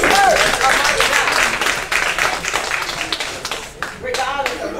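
Congregation clapping together at a church-style Christmas dinner gathering, a dense sustained burst of many hands that thins toward the end, with voices mixed in.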